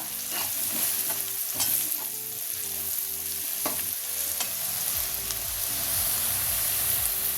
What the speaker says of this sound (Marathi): हे तिन्ही आपल्याला छान परतून घ्यायचे।